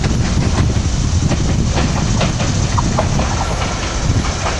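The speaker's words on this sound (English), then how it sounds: "Which actually is the Doylestown train coming in. With rail car 401 and two others leading the way." A SEPTA Doylestown commuter train, rail car 401 leading two others, rolls into the station with a steady rumble and rhythmic clickety-clack of wheels over rail joints, loud and close throughout.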